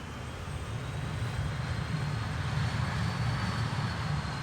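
A small aircraft's engine and propeller drone steadily as the plane spins around on the runway at Lukla airport, a moderate, continuous hum that swells slightly midway, with no talking.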